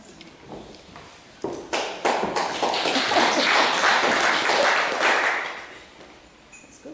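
An audience at a talk on the Ugly Men's Voluntary Workers Association breaks into applause that starts with a few scattered claps, swells into full clapping, then tapers away.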